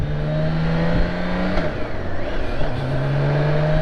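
A motorcycle used as a shop truck bike revs loudly up close, its engine note rising and falling through a few throttle blips with a steady harmonic drone in between.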